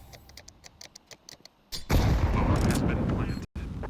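A grenade detonates on the Vertigo map in Counter-Strike during an ESL Impact match: light ticking game sounds, then a sudden loud blast with a dense roaring rumble that holds for over a second before cutting off abruptly.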